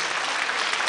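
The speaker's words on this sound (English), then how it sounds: "but Randy, that was a well-deserved round of applause that he did get here, Miculescu" Crowd applause fills a weightlifting arena at the 2010 European Weightlifting Championships after a successful 69 kg snatch attempt, a steady, dense clapping roar that stays even throughout the short moment.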